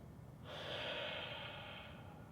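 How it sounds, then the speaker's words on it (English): A slow, steady breath out through the nose during a thoracic spine stretch, soft and close, rising and then holding as a long airy hiss with no talk. "Good long exhale."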